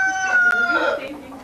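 Hens on an organic farm cluck in a short, close burst, with a rooster-like call rising over the flock and a voice faintly underneath.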